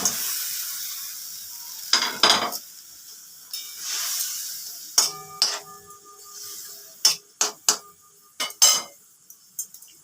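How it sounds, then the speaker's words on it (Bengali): Pre-fried tilapia pieces drop into a hot pan of simmering gravy for a Bengali do peyaji, sizzling steadily with scattered sharp clinks and stirring bursts, close and fairly loud. "আগে থেকে ভেজে রাখা মাছগুলো দিয়ে দিলাম।"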